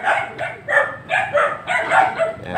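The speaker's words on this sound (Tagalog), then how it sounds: "Mga aso" Several dogs barking outdoors near a papaya tree, a rhythmic run of loud, fairly close barks and yips with brief gaps between them.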